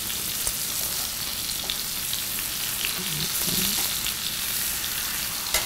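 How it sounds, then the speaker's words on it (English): Garlic and shallot sauteing with chicken in a pan, a steady close hiss and crackle of frying with faint stirring scrapes, no talking. "I'm going to saute that."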